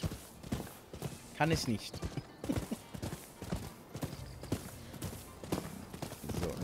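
Horse hooves clip-clop in the video game Rise of the Ronin, steady footfalls of a mount moving along, heard under someone speaking German throughout.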